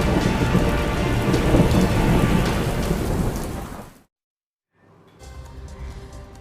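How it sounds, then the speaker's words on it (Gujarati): Heavy rain pours steadily with rolling thunder rumbling close and loud, cutting out abruptly into near silence before the downpour returns more faintly. "સૌરાષ્ટ્ર અને કચ્છમાં હાલ ભારે વરસાદ છે"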